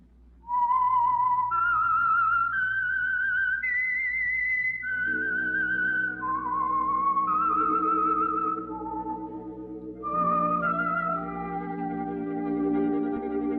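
A lone whistler carries the eerie, wavering theme melody of the 1946 radio drama The Whistler, clear and close, and an orchestral accompaniment joins partway through.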